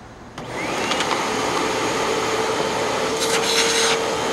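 A Hoover Windtunnel 2 upright vacuum cleaner switches on and runs with a loud, steady roaring whoosh of airflow and motor that continues unbroken, with no talking.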